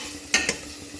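Boiled potatoes are stirred into spices in a pressure cooker, making two quick, soft scraping strokes over faint background hiss.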